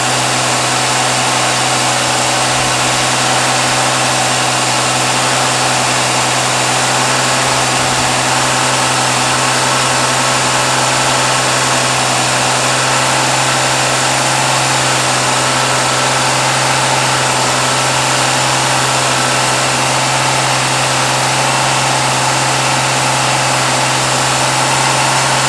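A Ford 200 inline engine fitted with a Holley Sniper and Hyperspark holds a raised idle near 2,500 RPM during cam break-in. The drone is loud, close and unbroken, with a steady low hum and no talk.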